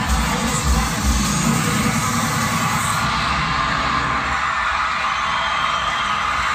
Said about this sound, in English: the sportsmanship in the stands cheering for Ace Cheer Company Phoenix